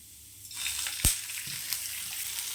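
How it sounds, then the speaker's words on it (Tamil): Onions hit a pan with a little oil and start a soft, steady sizzle, with a sharp clatter of a utensil midway and light stirring sounds afterward, no voices. "வெங்காயம் சேர்த்துக்கலாம் கொஞ்சமாக எண்ணெய் சேர்த்துக்கோங்க"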